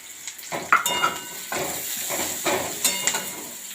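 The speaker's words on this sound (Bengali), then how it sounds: "রসুন কুচিও দিয়ে দিলাম।" Chopped garlic fries in a pan with ginger paste, turmeric, cardamom, bay leaves and cumin, sizzling close by while a spoon scrapes and stirs in repeated bursts, with no talking.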